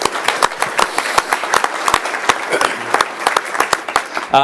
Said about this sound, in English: So one more round of applause for John.